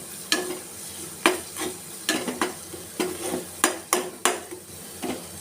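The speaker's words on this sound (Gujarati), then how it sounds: "હવે આપણે અહીંયા બધા મસાલાને હલાવી દઈશું" Spices such as salt, chilli powder and turmeric frying in hot oil are stirred with a spoon, a soft sizzle beneath sharp, close scraping strokes against the pan that come every half second or so, with no voices.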